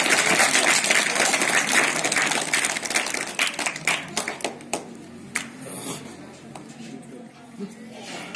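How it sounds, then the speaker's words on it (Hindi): An audience at a school event claps in a burst of applause that starts dense and loud, then thins into scattered individual claps and fades out, with a crowd murmur beneath. "एक बार जोरदार तालियां"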